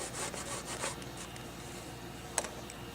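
Faint, close back-and-forth rubbing strokes as paint is rubbed off the ridges of a Nerf gun's body, with a small tap near the end and no speech.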